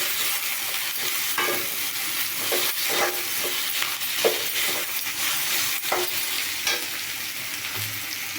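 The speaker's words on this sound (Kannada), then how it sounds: "ತೆಂಗಿನಕಾಯಿ ಮತ್ತು ಕೊತ್ತಂಬರಿ ಇದೆಯಲ್ಲ ಎರಡನ್ನೂ ಹಾಕ್ತೀನಿ ಕಾಯಿನ ಹಾಕ್ತೀನಿ" Grated coconut and coriander are tossed into raw mango rice in a hot pan, with a continuous soft sizzle and repeated scraping stirs of a spoon against the pan, close and steady.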